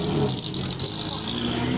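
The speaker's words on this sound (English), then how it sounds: "Yeah, that's definitely an old two-rotor. I recognize the sound." Old two-rotor rotary engine race car at a track, a brief, fairly faint buzzing engine drone that rises and falls slightly, heard from a distance with faint background noise.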